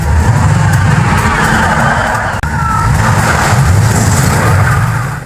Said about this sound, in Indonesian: Mereka terlibat aksi kejar-kejaran brutal dengan mobil misterius.